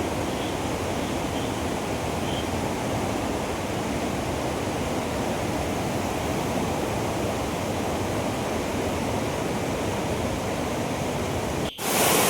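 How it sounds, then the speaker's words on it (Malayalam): A small monsoon-fed waterfall on a roadside stream near Athirappilly, Kerala, gives a steady, dense rushing roar that holds unbroken throughout, close and loud, ending with a brief sharp click. "മഴക്കാലത്ത് മാത്രം സജീവമാവുന്നൊരു വെള്ളച്ചാട്ടം"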